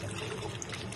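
Wine-soaked dried fruits for an eggless plum cake are tipped into a bowl, giving a brief, close, wet sliding and pouring rustle with no talk.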